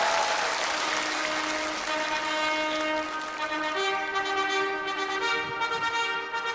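Audience applause during a CCTV Lantern Festival Gala comedy sketch about a wedding rehearsal, a steady dense clapping wash lasting throughout, overlaid with sustained musical tones and no speech.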